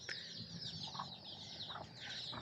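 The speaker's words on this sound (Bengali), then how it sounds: "আপনারা দেখতে পাচ্ছেন আমাদের দেশি মুরগি" Native Bangladeshi chickens clucking on a small farm, soft repeated clucks and short calls close by, mixed with a constant high rustle of background bird noise.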